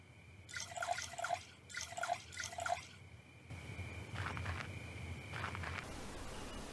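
Liquid sounds in the video game Neo Scavenger as water is sterilized and drunk: three quiet bubbling, dripping bursts, then a longer soft watery gurgle, faint and with no voices.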